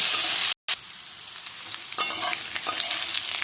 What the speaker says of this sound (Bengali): আলুটা দিয়ে একটু ভেজে নেব।